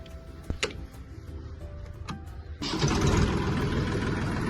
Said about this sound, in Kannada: ಗೇರ್ನ ನ್ಯೂಟ್ರಲ್ ಮಾಡಿಕೊಂಡೆ ಟ್ರ್ಯಾಕ್ಟರ್ನ ಸ್ಟಾರ್ಟ್ ಮಾಡಬೇಕು